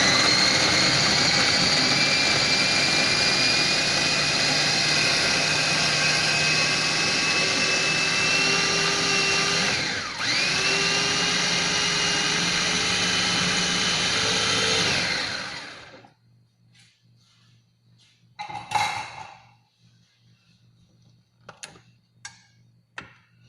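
A blender whirs loudly and steadily, grinding spice paste for ayam bumbu rujak, with one brief dip in pitch midway, then cuts off, leaving quiet clicks and small kitchen knocks.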